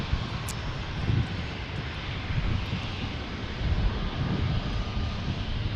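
A Southwest Airlines jet takes off from San Diego airport bound for Denver, a steady broad engine roar that swells slightly and holds throughout, moderately distant and alone.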